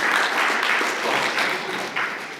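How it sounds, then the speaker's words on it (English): An audience at a large Islamic convention claps for a volunteer called up on stage, a fairly dense round of applause that holds steady and then thins slightly toward the end. "Round of applause for him"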